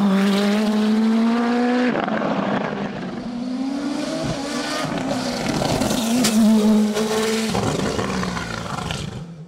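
Nova Proto NP01 race car with a 1.7 litre turbo engine on a hill climb: a loud, close engine drone climbing through several gears, each shift marked by a brief drop before it pulls hard again, with no talk.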